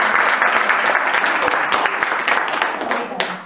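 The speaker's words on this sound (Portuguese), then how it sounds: "uma salva de palmas" Loud, dense applause from the crowd at a kindergarten party, sustained clapping that tapers slightly at the end.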